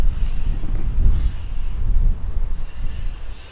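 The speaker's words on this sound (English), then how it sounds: "Oh, it's so windy." Strong wind buffeting the microphone at backyard dirt jumps, a loud continuous low rumble with gusty surges and no voices.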